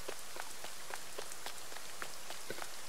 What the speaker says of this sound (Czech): Mně tady snad prší každý třetí den